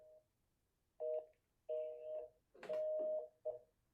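Phone dialing a number: a handful of clear electronic tones sound in sequence, some short and some held, close and distinct against a quiet background.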